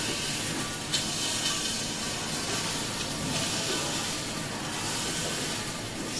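Hot oil sizzling and spitting as garlic goes into an automatic cooking robot, a steady broadband hiss that runs unbroken and fairly loud throughout, with no talking.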